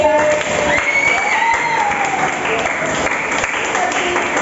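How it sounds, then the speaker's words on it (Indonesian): Applause from an audience of teachers at a school coaching session, a dense steady clatter of clapping with cheering and children's voices mixed in, loud and continuous throughout. "Dan kalian tepuk tangan luar biasa"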